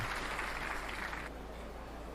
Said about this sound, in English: Did someone play an applause thing?